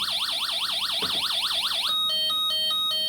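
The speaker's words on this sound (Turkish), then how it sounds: "İkinci butona yani S2 butonuna bastığımızda ambulans sireni sesi çıkarmaktadır." An electronic wailing siren from a UM3561 siren-generator circuit sweeps rapidly up and down, then switches to a two-tone electronic beeping pattern, loud and close, like a toy ambulance siren.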